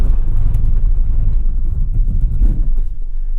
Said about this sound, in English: Let's do a 60 to 0 hard brake.